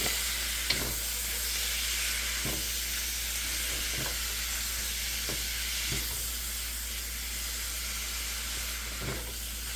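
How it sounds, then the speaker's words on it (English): Meat for lomo saltado browns in a hot pan with a steady, close sizzle and hiss, broken by occasional light clicks of stirring. "I just want to kind of brown the meat."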